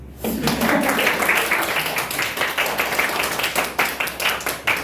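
Applause from a class during a lecture: dense, steady clapping from many hands, fairly loud and continuous from start to finish with no talking over it.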